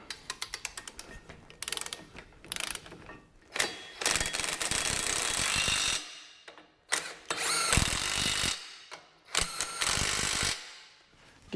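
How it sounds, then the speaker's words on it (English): A power tool runs down bolts on a 2021 John Deere 1025R tractor during a loader install: repeated loud bursts of whirring and ratcheting, each a second or two long, separated by short pauses, close by with no talk. "I am going to torque them all the way down."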